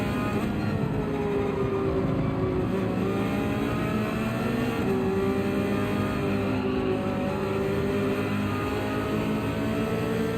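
Mercedes-AMG race car engines at Suzuka in Gran Turismo 7, a loud, steady, layered engine drone from several cars close together, with pitch rising and falling as gears shift, with no talk over it.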